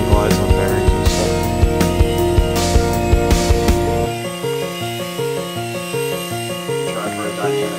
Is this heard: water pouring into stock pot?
no